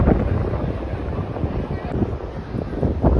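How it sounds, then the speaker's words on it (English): Strong wind buffets the microphone in loud irregular rumbling gusts, recorded upstairs with a sea view in Lakshadweep, India. "I think it's too windy now."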